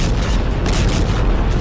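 Bomb explosions used to bring down bridges, a loud continuous rumbling roar with deep low-end booms and crackling bursts sustained throughout, heard alone without speech.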